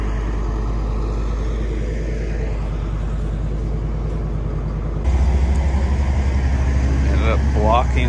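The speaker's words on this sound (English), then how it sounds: "Now we're gonna shove it in with the tractor." A tractor shoving a culvert frame into a calving shed, its steady diesel engine rumble loud and close throughout, swelling heavier partway through as it pushes, with a few faint squeaks near the end.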